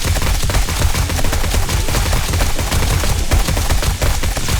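Dense gunfire in the video game 7 Days to Die with the Darkness Falls mod, a loud continuous burst of rapid shots filling the whole stretch without pause.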